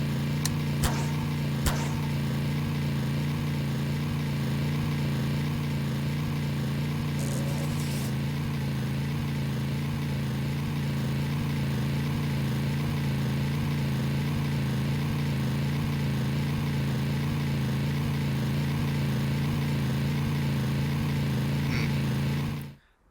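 An engine running through a gearbox transmission in Garry's Mod, a steady, loud mechanical drone with a throbbing, even pulse that holds for over twenty seconds before cutting off abruptly.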